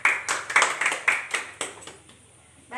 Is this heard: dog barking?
no